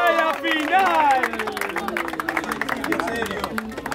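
At a regional freestyle rap battle final, a crowd breaks into clapping and hubbub after a loud, drawn-out shout from the host, with rapid claps continuing under voices and babble.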